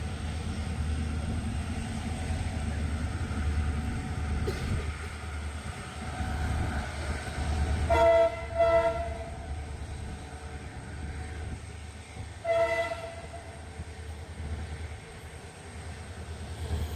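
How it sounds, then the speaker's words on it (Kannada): A passenger train pulls out of Tumakuru railway station at platform three, a low rumbling engine drone with two bursts of tonal horn-like sound around the middle and a steady roar throughout. "ನಮ್ಮ ಟ್ರೈನು ತುಮಕೂರು ರೈಲ್ವೆ ಸ್ಟೇಷನಿಂದ ಹೊರಟಿದೆ"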